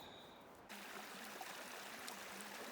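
March Creek runs through snowy spring woods, a faint steady rush of flowing water that swells in abruptly after a quiet start, heard from a little distance with no talking.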